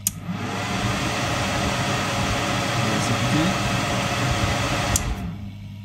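The cooling fan of an ACMER P3 laser engraver runs with a steady, loud whooshing hum that starts abruptly and stops near the end, a few faint clicks along the way.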